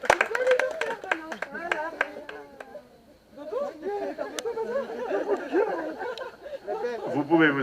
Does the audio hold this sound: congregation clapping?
yes